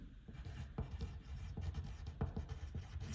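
Handwriting on paper, a close, faint scratch of pen strokes in short irregular bursts with brief pauses between words.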